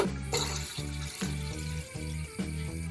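Water glugs into a pot on the stove for Kerala-style lemon pickle in about six even, rhythmic pulses, close and moderately loud, with no talking.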